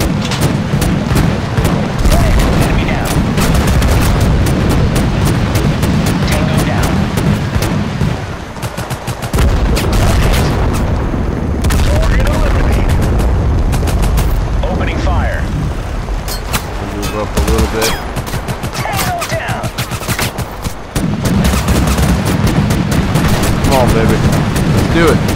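Intense battlefield gunfire and explosions in the war game Total Conflict: Resistance, with sustained machine-gun bursts, scattered rifle shots and heavy booms filling the scene loudly, and voices calling out now and then amid the fighting.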